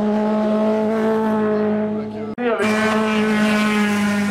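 A race car built on a Formule Renault base with a freely tuned engine screams at high revs, a sustained, loud, buzzing drone with a brief dip as a gear shifts, then climbs again.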